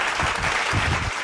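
A church congregation claps for a worshipper during a Tamil sermon, a dense, steady round of hand applause that is loud and close and fills the whole short moment.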